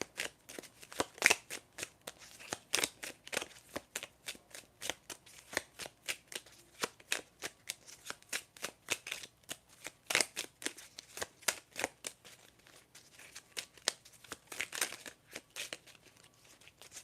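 A deck of oracle cards being shuffled near at hand, a rapid run of crisp riffling flutters and snaps repeating in quick bursts for the whole stretch, with no talking.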